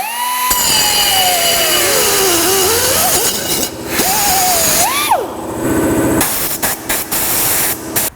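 A power tool, an abrasive cutter on a Ford Fairmont metal part clamped in a vise, whines loudly and continuously at close range, its pitch sagging and rising under load, then drops into shorter bursts near the end.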